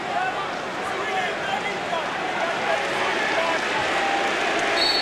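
A packed crowd at a 1989 NBA playoff game between the Chicago Bulls and New York Knicks chants in a broad, continuous roar that fills the arena, loud and unbroken, with no distinct beat standing out.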